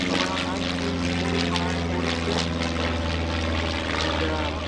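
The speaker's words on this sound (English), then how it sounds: "Yes, this is a Luscombe T8F. Beautiful airplane." A Luscombe T8F propeller airplane from around 1945 drones past during the EAA AirVenture 2018 general aviation parade, a loud steady engine hum with a buzzing propeller tone under an announcer's talk.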